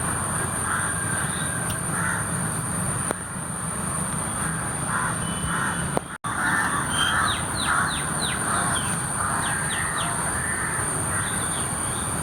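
Crows caw in Mananchira park in Kozhikode, a series of harsh calls at moderate distance over a steady background hum, with faint chirps of other birds.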